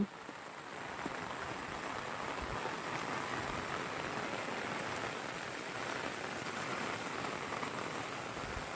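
A downpour of heavy rain drums continuously on roofs and ground in a village, a thick, even roar of falling water with no pauses, close and loud.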